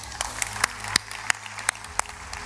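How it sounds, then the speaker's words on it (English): Audience applause at a European Commission DigInvest4EU conference session, a steady wash of clapping from a seated crowd with sharper individual claps standing out, continuing through while a presenter's amplified voice carries over it. "let's hear a big hand of applause for Thomas Jensen, CEO of Milestone."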